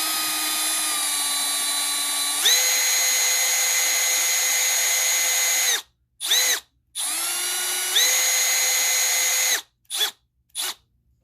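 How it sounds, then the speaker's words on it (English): A Milwaukee M12 cordless drill runs in reverse in long, steady whirring bursts, its pitch stepping up mid-run, then cutting off into short blips and quick stop-start pulses, loud and close with no talk. "That's drilling in reverse."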